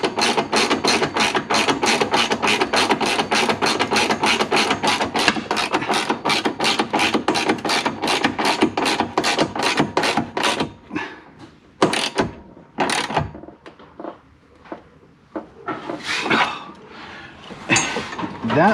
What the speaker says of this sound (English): find my wrench, I'm going to tighten this down and make sure that it goes in.